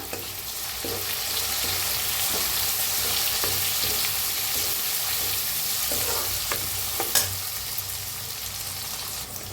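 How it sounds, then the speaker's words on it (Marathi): Masala mixed and roasted in a pan for dal dhokli, a steady loud sizzle with a spoon scraping and stirring through it, no voices. "मिक्स करून भाजून घेऊया"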